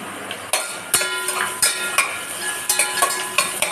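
Ginger, garlic and green chili frying in a pan with reddened onion, sizzling steadily while a spoon scrapes and clinks against the metal in repeated sharp strokes, close up and with no talking.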